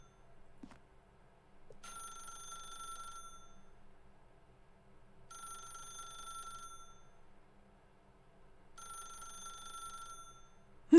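A telephone in The Stanley Parable rings in three separate bursts of a bright electronic trill spaced a few seconds apart, with near silence between rings.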